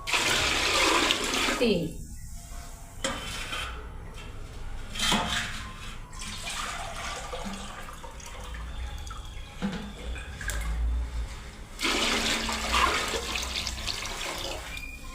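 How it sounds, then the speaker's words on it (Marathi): Water poured from a vessel into rice flour to make papad batter in a home kitchen, with loud gushing pours in several bursts and a voice talking between them. "चार पातेले पाणी टाकले ह्याच्यात."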